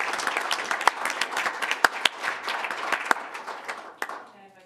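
Clapping at a school district board meeting, a room of people applauding with sharp individual claps standing out over the patter before it trails off, with voices underneath.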